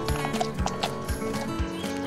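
A pony's hooves clip-clop in a quick, even rhythm, close and clear, with a neigh mixed in among the steps.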